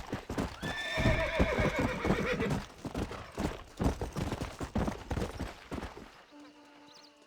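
Horse in the Red Dead Redemption video game neighing with whinnies early on, over steady hoof clip-clop and rustling movement that fades out near the end.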